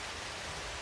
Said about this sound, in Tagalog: Yan po, umuulan na.